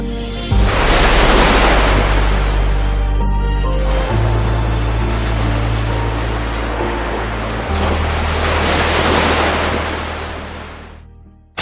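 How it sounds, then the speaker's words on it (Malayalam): Sea surf roars at Munambam beach, a loud, continuous broadband wash of breaking waves that swells and recedes over several seconds, with steady low rumble beneath and no voices. "എനിക്ക് പിന്നിലൊരു കടൽ ഇരമ്പുന്നുണ്ട്, മുനമ്പത്തെ കടൽ."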